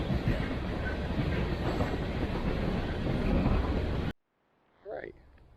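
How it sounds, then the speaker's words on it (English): A train rolls past on railroad tracks close by, a loud continuous rumble and clatter of wagons that cuts off abruptly, followed by a brief faint voice. "Right, the train has passed"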